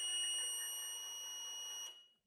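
A motion entrapment alarm wired to a USAutomatic Patriot or Ranger automatic gate board sounds a steady, piercing electronic tone while the gate arms move, then cuts off abruptly after about two seconds.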